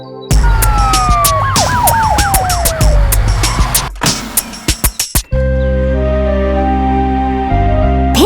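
An ambulance siren in a children's cartoon wails loudly with rising and falling wavering tones, followed by a run of rapid clunks and a steady blaring electronic tone, with no talking.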